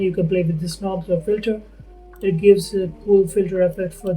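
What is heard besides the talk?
No everyday noises stand out.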